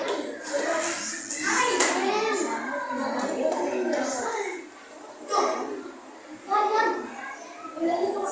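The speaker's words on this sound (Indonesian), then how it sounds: "Tepuk tangan untuk kelompok 2 sudah menyelesaikan tugasnya." Classroom applause for a group of students who have finished their task, scattered hand clapping mixed with children talking and a teacher's voice, moderately loud and close throughout.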